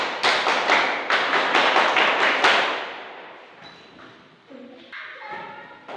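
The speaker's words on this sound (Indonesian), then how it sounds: "Tepuk pramuka." A group of children does a rhythmic scout clap, loud patterned claps for the first half that then fade, followed by quieter chatter and a voice.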